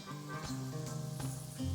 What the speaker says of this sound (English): we're gonna drop our green onions in there. Hear that little sizzle?